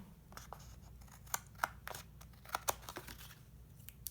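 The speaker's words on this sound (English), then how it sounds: "Run my scissors along. Get all those snipped off." Several quiet, irregular snips of scissors over a low background hum, with a few sharper cuts standing out among softer rustling.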